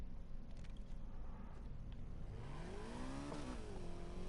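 A car engine in the racing game Need for Speed Heat idles low, then revs up with rising and falling whines. The sound is faint and steady, with no talking.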